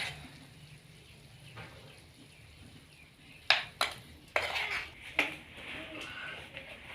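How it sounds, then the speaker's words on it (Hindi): Food is served into small bowls in a village kitchen, with a few sharp clinks and scrapes of a utensil against the dishes, quiet and close, over faint background noise and a little talk. "ये जी अब डाला जा रहा है कटोरियों में।"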